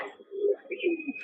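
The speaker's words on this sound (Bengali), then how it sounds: "এই সেই জোড়া বসানো পায়রা" A mated pair of pigeons cooing close by, soft low throaty coos rising and falling in two or three short phrases, with a faint higher tone alongside.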